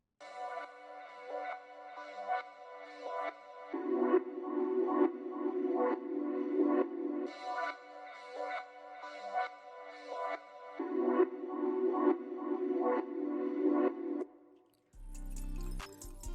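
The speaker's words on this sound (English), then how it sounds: "texture pad I found from Splice." A chopped ambient texture pad sample pitched up an octave in its first part, pulsed by a ShaperBox filter into soft rhythmic stutters with a low sustained tone swelling in twice, quiet and without voices.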